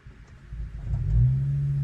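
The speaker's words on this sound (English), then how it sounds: "start your vehicle" A Ford Focus RS engine cranks and fires up, a low rumble swelling quickly into a steady, throaty idle close by.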